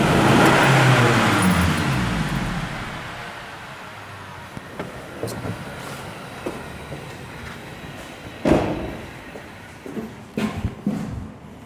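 A Dodge Avenger's engine runs at about 1000 rpm with a valve fault, a steady rough drone that eases after the first seconds, with several sharp knocks and clunks coming through near the end.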